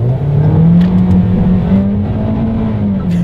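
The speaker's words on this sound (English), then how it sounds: "so let me press that here, and let's do a quick little acceleration test" A 2020 Toyota Corolla accelerating hard in sport mode on wet pavement, its engine note rising steadily and loudly up close for a few seconds, with a strong continuous drone throughout.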